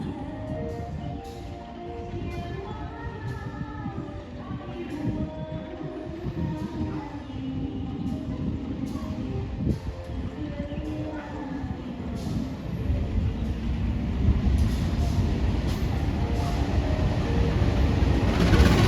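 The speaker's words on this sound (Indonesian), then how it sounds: "Dari sana ada kereta api Matarmaja tujuan stasiun Pasar Senen Jakarta" The Matarmaja economy passenger train rumbles past at close range through a station, a low rolling roar of wheels and carriages that grows louder toward the end, with faint station noise above.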